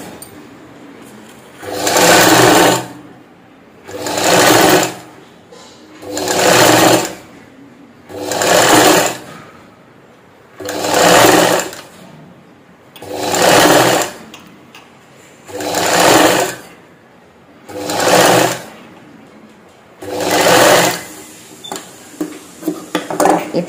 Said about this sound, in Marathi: आता ही पण पाव इंच वाळा ठेवून शिलाई मारून घेऊ.